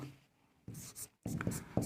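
Chalk or marker strokes on a board during a physics lesson on electric potential: a few short, close scratching bursts separated by brief pauses.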